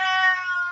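A Bengal cat gives one loud, close, sustained meow lasting under a second, clear and alone with no talk.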